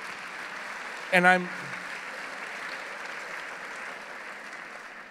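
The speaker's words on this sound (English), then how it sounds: "If I knew that would get applause, I would use that line more often." Steady audience applause fills a live onstage conversation event, holding evenly from start to end, with a brief voice rising over it early on.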